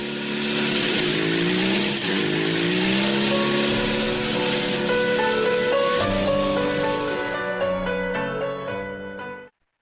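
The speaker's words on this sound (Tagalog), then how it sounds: "No ani Syra, namubak-ride ani akong motor." A motorcycle engine hums and revs while riding, a loud close drone with rising and falling pitch that eases off and cuts out near the end.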